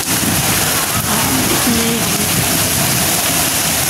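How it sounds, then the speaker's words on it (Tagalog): Steady, dense hiss of heavy rain pouring down nearby at Tai Po Market, Hong Kong, constant and loud throughout with no letup. "grabe ang lakas ng ulan"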